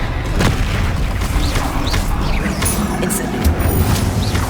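A Bombarda blasting-spell explosion in Hogwarts Legacy, a loud booming roar with rumbling debris and crackling magical effects, steady and full throughout without speech.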